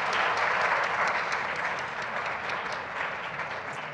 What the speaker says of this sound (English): Can we give a round of applause,